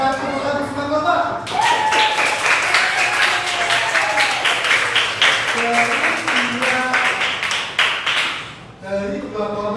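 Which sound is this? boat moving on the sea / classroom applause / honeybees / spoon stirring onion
classroom applause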